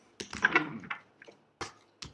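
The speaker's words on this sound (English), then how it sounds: "One more shuffle in here." A deck of tarot cards is shuffled, giving a short run of soft riffling rustles and flicks followed by a couple of quick separate card snaps in an otherwise quiet room.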